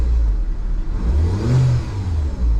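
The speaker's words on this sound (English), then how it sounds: "That's got to be the turbo winding up right there." A car engine with a newly installed turbo revs and pulls as the turbo spools up into boost, a loud, close rising whir over the engine's deep drone.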